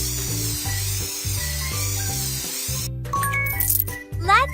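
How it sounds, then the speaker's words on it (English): Spray can in a cartoon pet hair-styling game, repeated rattling shakes with a looping musical beat underneath, then a hissing spray burst and bright sparkly chimes at the end. "Shake it and spray it."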